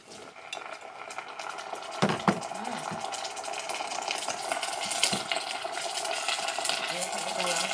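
Shallot, chili, garlic, lime leaf and lemongrass fry in a pan in a cramped boarding-house room, crackling steadily up close with stirring scrapes and clinks, and a voice speaks at times.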